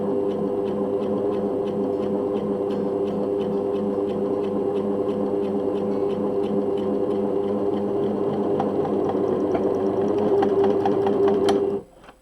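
An overlocker sews along a seam allowance at a slow, steady pace. Its close, even mechanical whirring and rapid needle chatter run continuously, then stop abruptly near the end.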